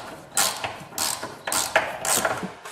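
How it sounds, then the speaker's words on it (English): Pivot screws being driven into wooden folding shelves in a cramped spot, giving a series of close, uneven ratcheting creaks and clicks in short bursts, with no voices. "Because of the tight space on the left side, screwing the screw is not that straightforward."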